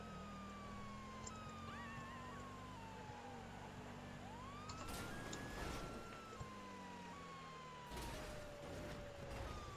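A police car siren in Grand Theft Auto V wails with rising and falling pitch, mixed with engine rumble and bursts of crashing noise.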